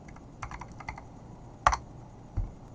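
A burst of keystrokes as a short command is typed on a computer keyboard, followed by two heavier key presses, close and fairly quiet, with no talking.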